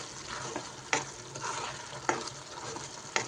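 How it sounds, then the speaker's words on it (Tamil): Sago laddu mixture is stirred in a pan until thick, soft frying hiss punctuated by four distinct spatula knocks and scrapes at uneven intervals, fairly quiet and close. "கெட்டியாகிற வரைக்கும் நல்லா கிண்டிக்கலாம்"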